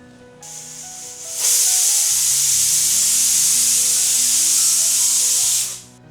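A pressure cooker with porridge inside lets off a loud, steady steam hiss that starts abruptly, holds at full strength for about four seconds over a faint hum, then cuts off.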